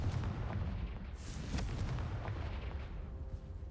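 The Confringo blasting spell in a video game: a deep, booming explosion with a sharp burst near the start that rolls into a sustained low rumble, loud and close, with no talking.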